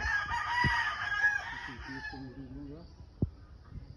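Rooster crowing nearby, one drawn-out cock-a-doodle-doo with a few clucks and thumps after it, set outdoors with a mountain view.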